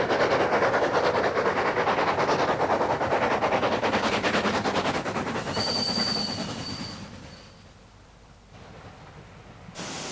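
A coal tank steam locomotive running bunker first near Mytholmes tunnel on the Keighley and Worth Valley Railway, a rapid chuffing and rhythmic wheel clatter close by with a brief high squeal, then fading to a quieter rumble as it passes.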